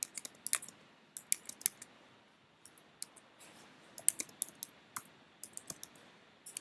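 Typing a domain name on a computer keyboard in a quiet room, crisp close key clicks in quick bursts separated by short pauses.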